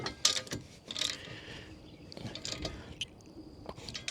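Hardware being tightened during assembly of a Young Electric Camouflage 2 e-bike rack with ramp: close metallic ratcheting clicks and scraping turns in short bursts, with small knocks and handling noise between them.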